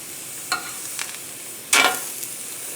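Scallops and shrimp sizzle in a hot pan, a faint steady hiss broken by a few short crackles and one louder burst of sizzling near the middle as food is stirred.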